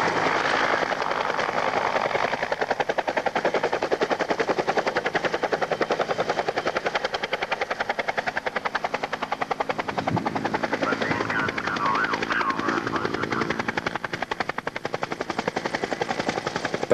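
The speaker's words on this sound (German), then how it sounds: "Neben den Aufgaben des Kurzstreckenlufttransports wird dieser Hubschrauber auch für den Such- und Rettungsdienst eingesetzt" A search and rescue military transport helicopter hovers at a 1992 air base open day for an evacuation demonstration, its loud, steady rotor thrum and turbine roar continuous and close throughout.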